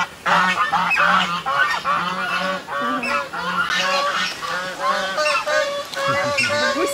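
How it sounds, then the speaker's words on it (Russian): Loud, repeated honking from several geese close by, overlapping calls in rapid succession with a brief low voice near the end. "Блин, гуси, хватит орать"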